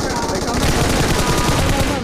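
Rapid automatic M4 rifle fire in a mobile battle-royale shooter game, a dense continuous burst of loud shots lasting about two seconds.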